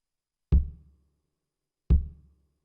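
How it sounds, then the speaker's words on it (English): Two deep, booming reggae one-drop kick drum hits, well spaced and isolated, each with a short decaying thump and nothing else around them. "So the kick sounds like this."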